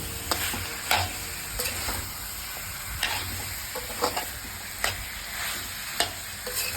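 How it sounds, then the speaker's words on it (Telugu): Andhra chicken curry fries in a pan with a moderate sizzle, broken by regular spatula scrapes and knocks about once a second, close up and with no speech. "మంచిగా ఫ్రై చేసుకోవాలి"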